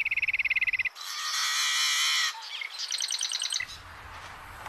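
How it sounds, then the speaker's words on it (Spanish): Birds chirping and trilling close by on a summer morning on the prairie: a rapid repeated call, then a bright sustained warble, then a run of quick chirps. "Como siempre, Flags se levanta con los pájaros"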